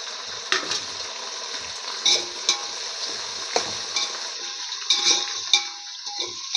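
Onions and tomatoes sizzle and fry in a pan for prawn biryani while a spoon stirs them, giving close, steady crackling with intermittent scraping clatters and no speech.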